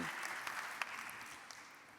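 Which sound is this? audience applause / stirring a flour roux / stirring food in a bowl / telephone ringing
audience applause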